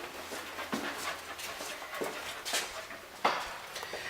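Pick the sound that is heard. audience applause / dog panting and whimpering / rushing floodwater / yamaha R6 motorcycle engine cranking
dog panting and whimpering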